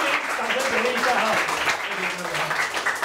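A live audience claps for a comedy troupe leader, a moderate wash of applause running under a voice speaking over it for the full few seconds.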